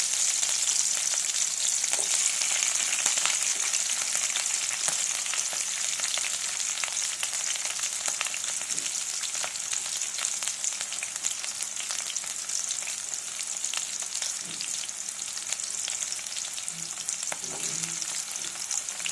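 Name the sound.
onions frying in oil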